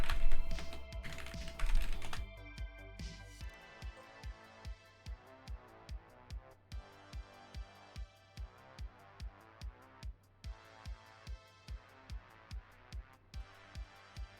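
Rapid, steady typing on a computer keyboard, close and fairly faint, with evenly spaced keystrokes after a busier burst of mixed background sound at the start; no talking.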